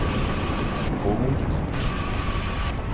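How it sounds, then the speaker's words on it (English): Metallic rail-grinding from Ratchet and Clank Future: Tools of Destruction, a continuous gritty scraping that runs steadily throughout, with a ratcheting mechanical texture under dense game sound. "Boom, you go with that grind section."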